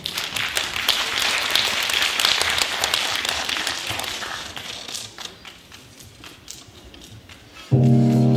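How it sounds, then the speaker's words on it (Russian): A live concert audience applauds, a dense crowd of clapping hands, loud at first and then thinning and fading out before music begins at the very end. "встречайте аплодисментами арт-центр «Классный мюзикл»"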